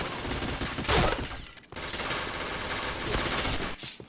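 Rapid video-game gunfire, bursts of automatic shots and impacts with brief gaps, close and fairly loud over a busy game soundscape.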